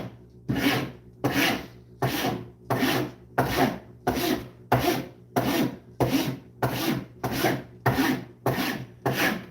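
Wood being filed to clean off burrs, with about a dozen even, raspy back-and-forth strokes in a steady rhythm, close and clear with no talking.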